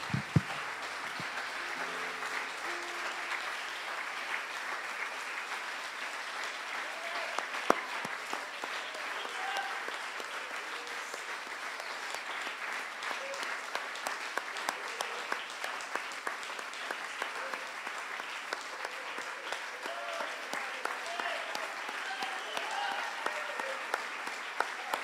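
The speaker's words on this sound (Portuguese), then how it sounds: "Louve a Deus com as suas palmas." Church congregation clapping in praise, a sustained wash of many hands beating steadily for a long stretch, with a brief voice at the start and scattered faint vocal sounds within the crowd noise.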